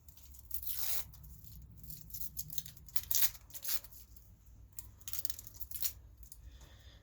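Dry papery skin tears and crackles as it is peeled by hand from an onion bottom, leaving the roots in place: several close rustling rips spread over a few seconds, with no voices.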